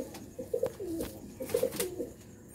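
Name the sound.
pigeons cooing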